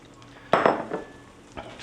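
A very hot frying pan, used for par-frying, handled in a kitchen: a sharp clatter of metal, a few quick knocks and scrapes, then a quieter clunk near the end.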